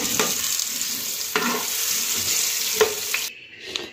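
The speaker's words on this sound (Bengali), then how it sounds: "এবার আলুগুলোকে ভেজে নেব।" Potatoes frying in a kadai (wok) over steady, moderate sizzling, with occasional scraping stir strokes every second or so, cut off abruptly near the end.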